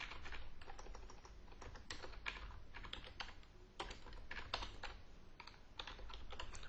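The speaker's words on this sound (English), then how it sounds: "Now I'm able to start typing." Quiet keystrokes on a computer keyboard patter in irregular bursts and short pauses, soft and close, as someone types a dashboard title, with no talk over the clicking.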